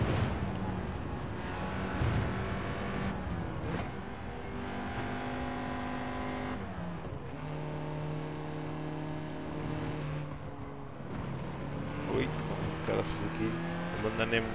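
Honda Integra Type R DC2 engine in Gran Turismo 7 on the Nordschleife, a steady high-revving drone with shifting pitch through the gears, continuous and loud, with someone talking over it.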